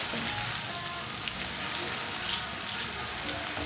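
Garlic frying in oil until crisp and dry, a steady close sizzle and crackle filling the pan with no voices over it.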